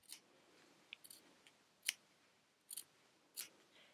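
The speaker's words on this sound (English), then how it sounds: "Use a sharp little pair of scissors and please be careful to not cut your exterior fabric." Small sharp scissors trim fabric close to a sewing line for a rolled hem, giving a series of faint, crisp snips spaced unevenly in a quiet room.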